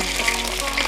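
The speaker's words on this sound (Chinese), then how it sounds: "现在我们把鱼煎一下" Small stream fish frying in hot oil in a pan, giving a brief, continuous close sizzle with dense crackling and no voices.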